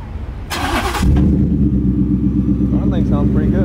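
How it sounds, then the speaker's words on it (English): A truck fitted with an MBRP exhaust cranks briefly and fires up loud and close, then settles into a deep, steady rumbling idle while voices talk nearby. "This is gonna start up the truck with MBRP."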